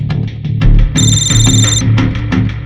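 A telephone rings in a police station scene of a Gujarat crime drama, a loud electronic trilling burst lasting about a second over a thumping background music track.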